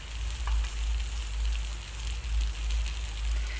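Appe batter sizzles steadily in oil in a nonstick appe pan, a close, continuous crackling hiss with a low hum underneath and no voices.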